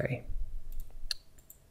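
A computer mouse clicks a few times, faint and close, while options are picked in an AutoCAD settings menu, with a muffled low noise at the start.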